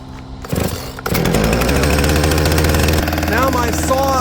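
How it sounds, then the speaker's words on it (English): A tractor engine runs loudly and steadily at close range while logs are cut, with a strong continuous drone and harmonic whine that rises in pitch partway through. "you guys can watch and listen to the tractor while we're up here"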